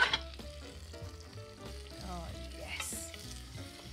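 Mars bars, caramel and butter melting in a pan while being stirred, a soft low sizzle with gentle scraping, fairly quiet, and a brief voice at the start.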